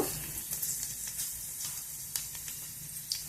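Chopped garlic pieces and mustard seeds sizzling in hot oil, a steady bright hiss with scattered small pops and crackles throughout.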